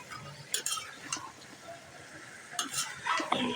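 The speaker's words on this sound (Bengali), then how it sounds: "এটাকে আমি এখন ভালো করে একটু কষায় নিব।" Dried fish, new potatoes and Malabar spinach seeds being stir-fried in a pan, with a few sharp spatula scrapes and clinks over a faint sizzle, close and intermittent with quiet gaps between strokes.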